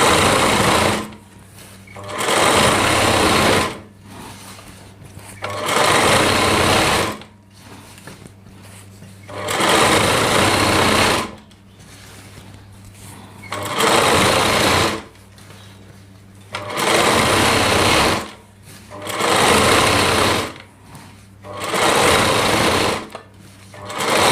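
Sewing machine stitching the border of a heavy-work Rajputi lehenga, running in repeated bursts of about two seconds separated by short pauses, loud and close with no talk.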